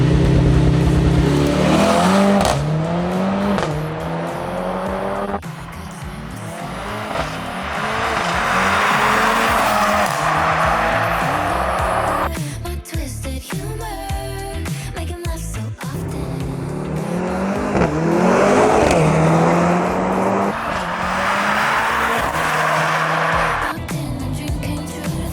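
A stock Mercedes C63 S AMG launches hard from a standstill to 60 mph, its engine roaring loudly and revving up through several gears with brief shift pauses, tires squealing at times, recorded up close.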